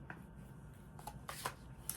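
Faint, soft riffling and brief flutters of tarot cards being shuffled close by in a quiet room, a few scattered bursts with no talking.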